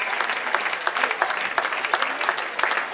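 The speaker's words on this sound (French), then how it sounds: "On applaudit bien fort" Steady, enthusiastic applause from a crowd at the end of a match, many hands clapping densely with sharp peaks, loud and close, no talking.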